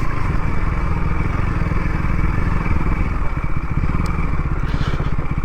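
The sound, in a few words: motorcycle engine running on village road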